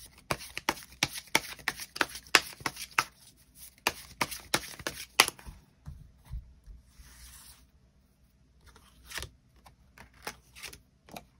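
Tarot cards are handled and drawn in a string of quick, crisp close-up taps and slaps, denser at first and then sparser with quiet pauses, faint and with no talking.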